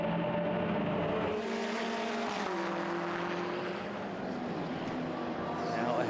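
BMW M6 race car overtaking a Renault Clio on track during an ESET Cup Supercar Challenge race at the Red Bull Ring, a continuous engine roar with shifting pitch as the cars pass, under commentary talk.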